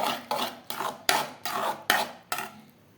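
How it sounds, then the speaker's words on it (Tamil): Brain being beaten with egg in a bowl for an omelette, six quick rhythmic whisking strokes of utensil against the bowl, close and fairly quiet, no talk. "முட்டையோடு நல்லா கலக்கிக்கலாம்"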